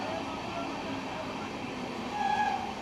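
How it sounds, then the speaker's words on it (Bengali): Gangasagar Express running on the Sealdah to Bandel line, heard from inside a modern LHB coach as a steady, smooth rolling rumble with faint rail noise throughout. "বন্ধুরা দেখো ট্রেন চলছে প্রায় ভালোই জোরে চলছে"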